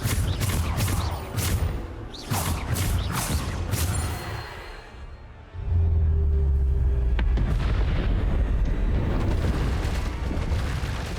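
Bombarda spell explosions in Hogwarts Legacy erupt amid combat, a flurry of sharp cracking blasts early, then a lull and a deep rumbling boom that swells and stays loud to the end.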